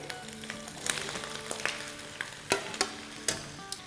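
Sliced bell peppers and mushrooms sizzle in a hot pan for Chinese noodles, a steady fry broken by sharp clatters of stirring and tossing.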